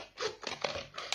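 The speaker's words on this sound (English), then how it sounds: "close your scissors and go back in and cut round that little line" Several crisp snipping and crunching cuts close up as scissors cut a plastic bottle, a few quick bursts in a row, with a crinkly, brittle edge.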